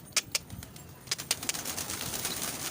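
Pigeons fly in with a few sharp, close wing claps early on, followed by a busier run of flapping and fluttering that settles into a steady rustle of wings.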